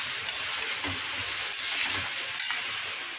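Spiced papaya and potato sautéing in a pan, a steady close sizzle with soft stirring scrapes, heard alone without talk.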